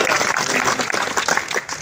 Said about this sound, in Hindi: एक बार ताली बजाकर के महाराज जी का स्वागत करें